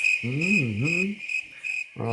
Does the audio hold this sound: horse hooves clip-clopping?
no